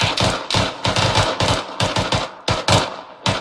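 Automatic rifle fire in the military shooter Arma 3: loud, close bursts of shots in quick rhythmic volleys with brief gaps between them, heard alone without talk.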